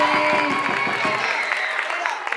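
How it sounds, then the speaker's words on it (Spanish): Clapping from a crowd at a school Christmas parranda honoring the graduating students, dense and steady through the whole stretch with a voice or music tone running underneath. "Un aplauso a nuestros muchachos de la promoción"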